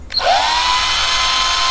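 Cordless battery drill converted to run from mains power spins up with a brief rising whine, then holds a steady, loud, continuous motor whir with no talking.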